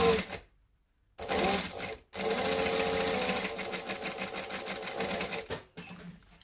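A sewing machine stitches a seam on a Crypt Carrier bag with a drop-in lining. The motor starts and stops in two short bursts, then runs in one long steady stretch before a brief final spurt.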